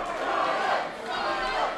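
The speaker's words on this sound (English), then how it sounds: "Listen to the crowd here." The crowd at a boxing fight night roars throughout, a dense, swelling wall of cheering and shouting from a packed venue, rising and falling in waves.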